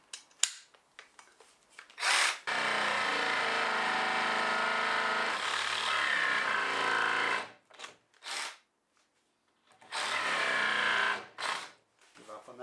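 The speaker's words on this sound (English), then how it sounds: "You can live in hope that one jigsaw is going to be better than the other." Jigsaw cutting wood for a boat rudder, buzzing loudly in two long sustained bursts separated by short pauses and brief stops.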